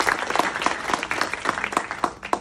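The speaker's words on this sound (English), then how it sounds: "round of applause for Sean." Summit audience applause for a presenter, a brisk room of clapping with distinct sharp claps standing out over a dense bed, no talking.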